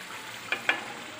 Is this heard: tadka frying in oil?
yes